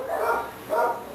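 A dog lets out two barks about half a second apart, moderately loud and slightly distant, heard against a faint background hum in an indoor setting.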